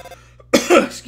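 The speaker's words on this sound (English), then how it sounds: "Robotic coughing." Two quick, harsh coughs in close succession after a moment of near silence, loud and close.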